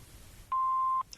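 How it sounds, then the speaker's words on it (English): A single steady electronic answering machine beep, clear and sustained for about half a second after a faint background hum. "Please leave your name and phone number after the beep."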